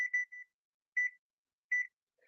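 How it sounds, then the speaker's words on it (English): An electronic kitchen oven timer being set while cooking jerk buffalo wings, giving a cluster of three quick beeps followed by two more single beeps about a second apart, clean and isolated. "I'm going to go ahead and just put the timer on so I don't forget"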